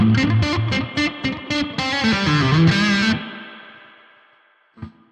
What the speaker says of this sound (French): Oui, c'est une reverb spring qui va plutôt bien.